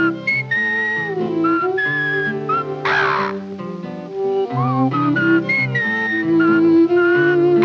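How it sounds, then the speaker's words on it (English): A person whistles a bright melodic tune, clear and close, with steady notes and short pauses between phrases. "I'm whistling a tune"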